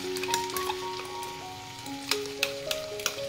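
Tomato paste hitting a pan of frying chicken curry with whole tomatoes, giving a soft sizzle with scattered crackles and light clinks against a faint background tone.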